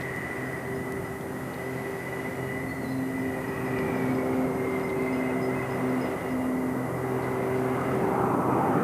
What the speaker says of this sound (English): A graceful touchdown from a graceful aeroplane.